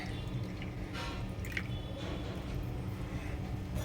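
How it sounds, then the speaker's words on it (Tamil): Water is poured over washed cheppankizhangu (taro roots) to soak them, running steadily in a continuous splashing wash, with a few louder drips and trickles rising above the flow. "இது நல்லா ஊறி வர அளவுக்கு தண்ணி ஊற்றிடுங்க"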